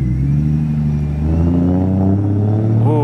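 A BMW F80 M3 project car drones loudly and steadily at close range with a deep, throaty engine tone. The pitch climbs slowly as it revs, then sharply in a quick blip at the end, with no talking.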